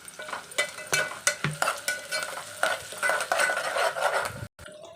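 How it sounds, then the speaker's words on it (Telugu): Eggplant curry with onions and curry leaves, Telangana style, fries and is stirred in a pan: a steady close sizzle broken by repeated scraping knocks of the spoon, with no talking. "మొత్తం వేసుకున్నాక ఫ్రై చేసుకోవాలి."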